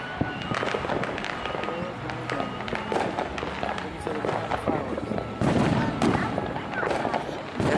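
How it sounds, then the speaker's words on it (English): New Year's Eve fireworks burst repeatedly at close range, a dense run of sharp cracks and booms with crackling in between, continuing throughout under occasional nearby talk. "The fireworks."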